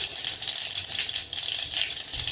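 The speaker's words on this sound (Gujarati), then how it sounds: "તો આપણું તેલ આવી ગયું છે, તો આપણે તેમાં રાઈ નાખશું અને જીરું લેશું" Mustard seeds and cumin crackle and sizzle in hot oil in a pan on a low gas flame, a steady bright spattering with quick pops, close and continuous.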